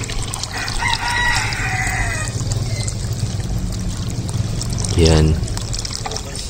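Water is poured into a container of mosquito larvae being raised as live fish food, a splashing pour early on under a person talking, with a rooster crowing nearby toward the end.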